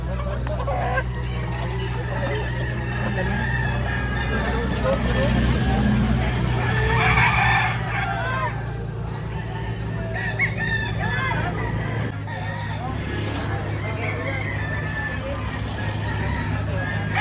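Roosters crow repeatedly at a chicken market in Lipa, Batangas, over a steady drone of idling engine and traffic, with people talking in the background throughout.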